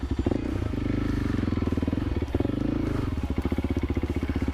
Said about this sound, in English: There's a log behind me that my back tire is spinning on.